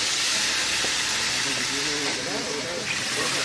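Water poured into goat meat cooking in a hot pot sends up a loud, steady hiss of steam and sizzle that runs unbroken throughout.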